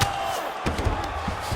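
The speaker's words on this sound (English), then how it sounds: "So the crowd absolutely loving it as these fighters work their way back to the feet." A virtual arena crowd in the UFC 5 fighting video game roars and cheers steadily as a broad, continuous wash of noise, with a few sharper bursts rising above it.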